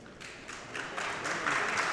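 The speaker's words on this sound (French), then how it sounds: "Alors, les applaudissements," Soft, steady applause from a crowd at a petanque boulodrome during a French doubles championship final, moderately distant and building slightly, with no voices over it.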